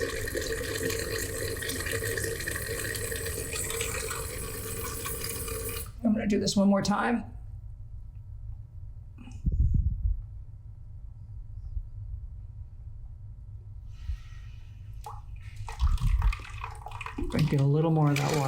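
Water and compressed air hiss out of the drain valve of an air compressor tank in a steady broadband rush for several seconds, cut off, then return in shorter bursts, with a person speaking between the releases.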